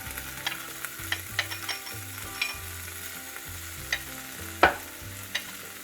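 Chopped onion frying in a pan with leftover pork lechon, a steady soft sizzle with occasional scraping stirs and clinks of a utensil against the pan, no voices.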